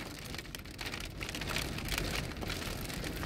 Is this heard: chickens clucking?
no